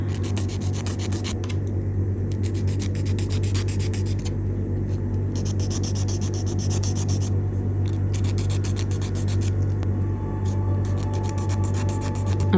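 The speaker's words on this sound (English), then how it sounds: "what I'm gonna do is just file the tips off where you can see like this little plastic bit" A nail file rasps steadily across plastic press-on nail tips, a close, continuous scratchy rubbing with short pauses and strokes in a regular rhythm, with no talking.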